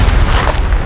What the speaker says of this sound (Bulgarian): Това беше тази експлозия, бе!